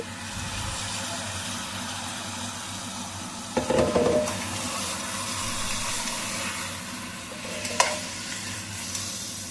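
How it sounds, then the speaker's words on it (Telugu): Country chicken curry pieces frying in a pan hiss with a continuous loud sizzle, broken by a couple of scraping stirs of a spoon through the meat, close up with no talking. "ఇలా ముక్కలంతా కూడా కలుపుకుంటూ ఉండాలి. ఇలా మంచిగా వేయించుకుంటూ ఉండాలి కాసేపు."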